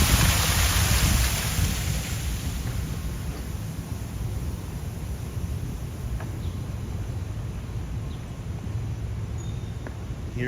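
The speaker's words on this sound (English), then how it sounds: "And along the Riverwalk you'll find like these beautiful little waterfalls." Small decorative waterfalls along the San Antonio Riverwalk in Texas, a steady broadband rush of falling water that stays loud and continuous throughout, with no voices over it.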